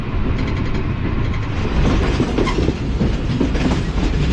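The Tezgam passenger train between Rawalpindi and Karachi runs on rails near a loop line, heard from inside as a steady, loud rolling rumble with rhythmic clickety-clack of wheels over rail joints throughout.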